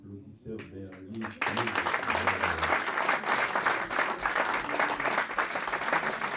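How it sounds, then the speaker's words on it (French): Congregation applause at a French-language church gathering: after a moment of speech, a sudden burst of many people clapping starts and continues steadily, loud and close. "moi, je peux applaudir Sœur Berly"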